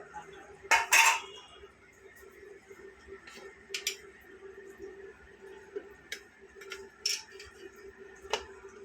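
A metal spoon scrapes and clinks against a plate and pots while white rice, egg fry and ulli theyal are served, with scattered sharp clinks and soft scrapes over a faint steady hum.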